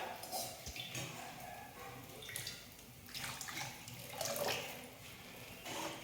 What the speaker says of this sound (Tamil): இந்த பாத்திரத்தில் கொஞ்சமாக தண்ணி விட்டுட்டு கரைச்சி விட்டுக்கலாம்